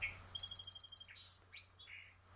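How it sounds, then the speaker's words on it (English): A recorded song sparrow song plays back, a quiet, clear run of bright whistled notes and a rapid trill followed by a few scattered chirps, with no voices. "There's your song sparrow."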